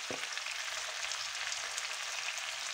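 A generous garlic and fresh parsley mortar paste goes into a simmering rabbit and almond stew, giving a steady, fairly loud sizzle and bubbling hiss that runs the whole time with a brief soft knock at the start.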